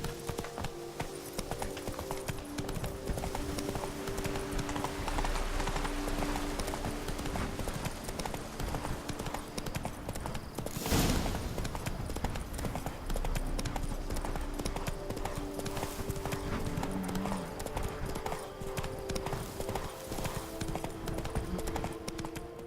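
Steady clip-clop of a horse trotting in The Witcher 3, hooves beating a continuous even rhythm close by over ambient game music, with a brief louder burst midway.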